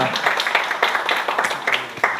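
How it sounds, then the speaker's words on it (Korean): A Korean church lecture audience applauds a young preacher, a short round of scattered, fairly close hand claps with distinct individual slaps rather than a dense roar, and a little voice mixed in. "수고해주신 우리 조현우 전도사님께 큰 박수 부탁드리겠습니다"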